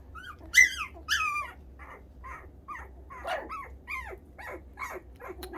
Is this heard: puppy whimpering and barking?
yes